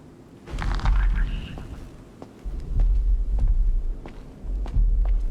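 Footsteps in the horror video game Saturnalia thud heavily and steadily across the ground, a series of low, muffled steps in bursts over a dark, humming ambience.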